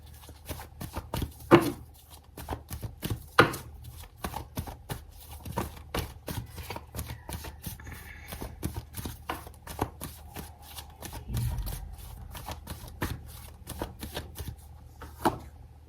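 Tarot cards are shuffled by hand in repeated quick riffling and flicking bursts with soft taps between them, quiet and close, with no talk.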